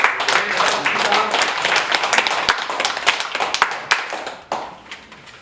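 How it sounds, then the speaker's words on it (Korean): A small audience claps at a commemorative ceremony, a few seconds of brisk, scattered handclapping, dense at first and then thinning out into sparse claps, with speech heard over it. "김영일 회장님을 박수 한번"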